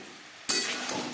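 Vegetables and spices being stirred in a pan for a vegetarian spinach ghonto burst into a loud, sudden sizzle partway through, then keep hissing steadily close by, with no voices.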